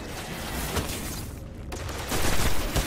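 Gunfire from a newly acquired weapon in the video game Destiny, a dense, continuous stream of shots throughout with a brief dip midway before growing louder near the end.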